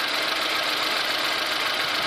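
A car engine holds about 2000 rpm during a do-it-yourself fuel injector flush done without removing the injectors, giving a steady, loud, unbroken mechanical roar and hiss throughout.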